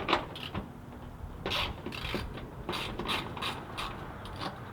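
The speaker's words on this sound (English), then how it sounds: "In this opening, you will have a 10mm bolt that you will have to remove." Ratchet wrench loosening a 10mm headlight bolt on a Toyota Tacoma, a series of quick clicking, rattling pawl bursts at close range, moderately loud with brief pauses between strokes.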